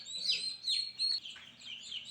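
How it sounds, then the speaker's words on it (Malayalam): Week-old chicken chicks peeping, a few high thin chirps in quick succession, close and soft against a quiet background. "ഒരാഴ്ച പ്രായമുള്ള കോഴിക്കുഞ്ഞുങ്ങളാണുള്ളത്."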